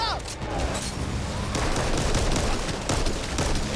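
Rapid bursts of gunfire fill a frantic zombie shootout in the video game Back 4 Blood, loud and continuous with sharp transients throughout, mixed with game effects and a voice talking over it.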